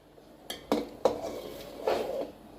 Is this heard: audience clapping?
no